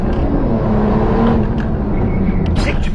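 A Porsche driving and accelerating, a loud continuous engine roar heard from inside the car with a steady rising drone, brief faint clicks near the end.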